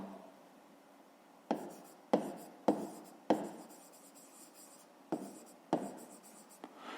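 A pen scratches out a fifth-grade math solution by hand in quiet, a series of six or seven short, sharp strokes with brief rustling pauses between them.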